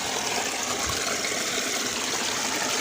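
Water pouring steadily from a toy waterfall, a continuous hiss of splashing with no breaks, fairly soft and alone.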